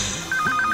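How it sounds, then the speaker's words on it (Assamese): A mobile phone ringing with a mother's incoming call, a short electronic ringtone of repeated rising tones, close and clear with no talk over it. "মাৰে ফোন কৰিছে বাজি থাকক তেনেহ'লে"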